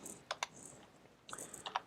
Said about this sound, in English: So if I type dentist